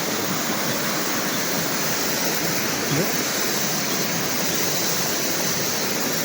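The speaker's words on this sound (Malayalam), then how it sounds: "എന്നാ വെള്ളം നോക്കിക്കേ, നല്ല തെളിഞ്ഞ വെള്ളം." Clear water of a forest stream rushes steadily in a continuous, close, loud broadband flow with no pauses, and no voices break the constant wash throughout.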